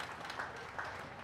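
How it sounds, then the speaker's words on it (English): Audience clapping at a county fair goat show, a short faint burst of scattered applause from a crowd in the show ring. "Let's give her a round of applause."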